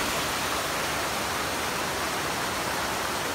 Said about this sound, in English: there's the other half of the water flowing off of the mountain